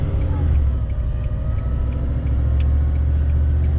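A Toyota 70 Series with a six-speed automatic conversion pulls a trailer in first gear, its engine giving a steady low drone with a faint rise in revs.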